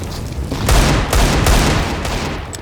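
Gunfire in the video game CS:GO on the Dust 2 map, loud bursts of rapid shots and booms that follow close upon each other with no talk during the shooting.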